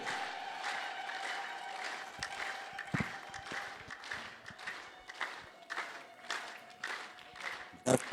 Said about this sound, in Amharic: በደንብ አጨብጭቡ።